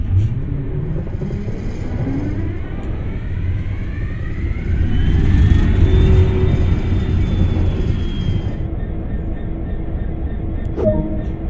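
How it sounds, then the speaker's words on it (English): A diesel locomotive engine starts up in Train Sim World on the GWE route, a low rumble building and swelling into a steady throb with a rising whine, then settling, ending with a short clank. "Use the engine start button on the desk, then wait for the engine to get running"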